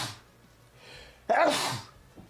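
A single sharp human sneeze bursts out after a quiet breathy lead-in, loud and close, trailing off into a faint sound afterward.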